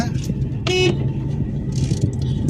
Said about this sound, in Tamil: ஹாரன் கூட ஓரளவுக்கு நாமினலான சவுண்டு தான் ஹாரனு